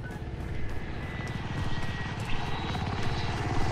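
Supply helicopter passing overhead in Call of Duty Modern Warfare, a steady rhythmic rotor thump with engine whine that holds close and fairly loud throughout, with no talking.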